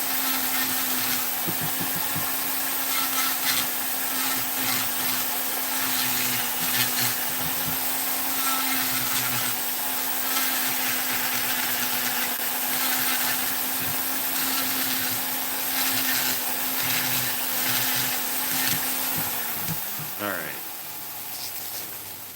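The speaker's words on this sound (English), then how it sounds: "I'm going to go around this thing one more time with the flex, with the flame burr" A Vevor flex shaft rotary tool with a flame burr carves a wooden Knights Templar figure, a continuous high whine with grinding texture that holds steady throughout and winds down near the end.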